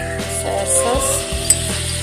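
Soy sauce hits a hot pan of browned garlic for veg pasta, giving a loud, close sizzle with a few utensil knocks and a sharp tap partway through.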